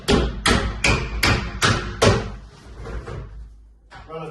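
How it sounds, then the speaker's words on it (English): An everyday hammer taps pins into the lid of a two-wheel wheelie bin: six sharp, evenly spaced knocks about half a second apart, then a few softer taps, close and loud with no talking. "You put the pin in, you tap them in."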